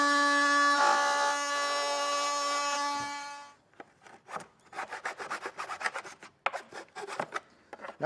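A hand file rasps back and forth along a freshly cut notch in a 2023 Jeep Gladiator fender for a snorkel install, the strokes ragged and uneven after a steady tonal whine from an earlier cutting tool fades out.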